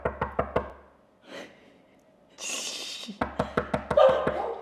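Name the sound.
knocking on a door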